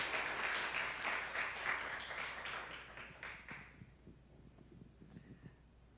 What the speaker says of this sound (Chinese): 我们这时候就用热烈掌声来欢迎慧君